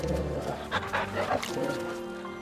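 A dog in a video game whimpers and yips in short, whiny bursts, mixed in with someone talking over it throughout.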